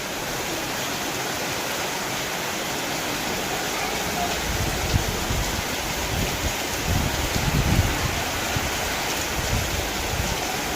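Heavy monsoon rain pouring down over a village, a loud dense continuous roar of falling water, close and unbroken throughout.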